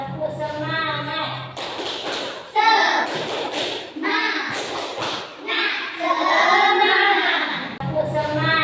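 A group of children clap out a rhythmic spirit chant in a classroom session, with bursts of quick patterned claps and taps mixed with their chanting voices, close and lively.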